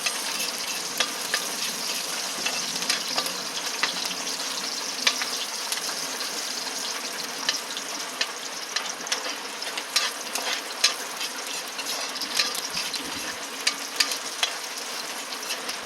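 Onions sauté in a pan with a steady, even sizzle throughout, broken by frequent small crackles and faint utensil ticks, no voices.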